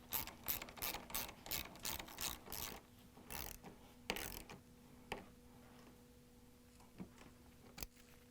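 A ratchet fitted with a 10mm socket and extension clicks rapidly while tightening bolts on a hinge, the dense rattling runs thinning to a few isolated clicks over a faint steady hum.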